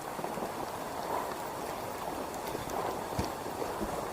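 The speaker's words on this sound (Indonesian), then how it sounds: "Hujan." Steady rain falls on a rural hillside garden, a continuous broadband hiss with occasional louder drips and taps. It lasts throughout at moderate level, with no talk.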